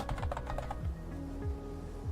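Quick clattering keystrokes on a computer keyboard during a session of the building game Infraspace, a short burst of close taps at the start and then quieter, with faint tonal game sounds underneath.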